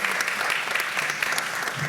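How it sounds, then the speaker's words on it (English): A seated audience gives a brief, steady round of applause at a talk, dense clapping throughout without any voices. "can you give them a quick applause there?"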